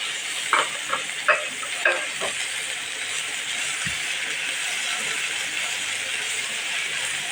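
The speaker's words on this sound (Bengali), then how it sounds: "মশলাগুলোকে আমি ভালো করে একটু ভেজে নেব।" Cumin paste and garlic paste fry with onions, chilies and tomato in a pan for a fish bhuna curry. A few sharp stirring scrapes come first, then a steady sizzle continues alone.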